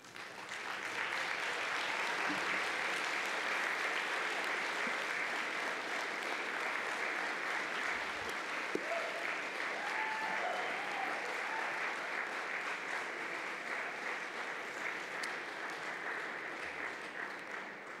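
Commencement graduates standing to give a sustained round of applause in a large ceremony hall, steady broad clapping from a big crowd that holds for the full length at moderate distance.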